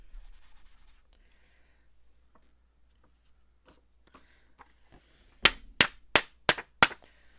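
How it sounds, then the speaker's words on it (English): Buffing a stamped, etched moth craft piece with gilding: soft rubbing at first, then five sharp, loud scrubbing strokes in quick succession near the end, with no talking. "A little more buffing here."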